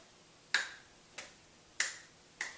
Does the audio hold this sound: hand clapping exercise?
yes